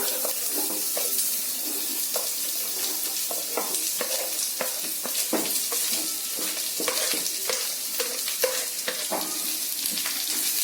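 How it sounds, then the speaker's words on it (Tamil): Chopped onions sizzle and fry in a hot pan for mint rice, with steady close-up stirring scrapes and clicks repeating throughout over a constant hiss; no one talks. "இப்போ நம்ம வெங்காயம் கட் பண்ணி வச்ச வெங்காயத்தை இதில் ஆட் பண்ணிடலாம்"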